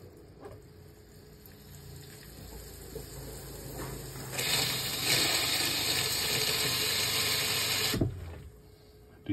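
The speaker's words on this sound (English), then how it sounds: "To do a number two, you just take and fill the bowl up with water." An RV toilet in a 2018 Stryker bowl filling with water: a steady hiss and rush of flow starts partway through, holds loudly for several seconds close by, then cuts off abruptly, with a low rumble underneath.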